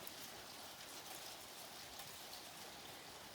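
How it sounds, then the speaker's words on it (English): Hail falls outdoors alongside rain, making a faint, steady, dense patter heard from a distance, with no voices. "See, that's not just rain, that's hail."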